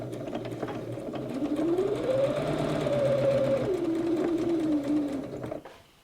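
Close sewing machine stitching a patchwork tumbling block seam, a steady rapid whirr whose motor pitch rises and falls once over about five seconds, then stops abruptly.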